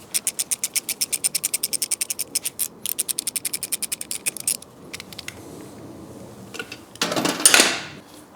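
Ratchet wrench undoing a screw on a 2024 Triumph motorcycle frame, a rapid run of sharp close clicks in steady bursts with brief pauses, then a louder scraping rustle near the end.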